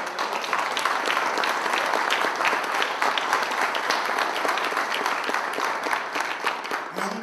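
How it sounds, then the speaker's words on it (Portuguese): An audience at a Python Brasil keynote applauds with dense, loud clapping that goes on steadily for several seconds, then fades slightly at the end. "eu queria pedir uma salva de palmas a uma pessoa que entrou agora"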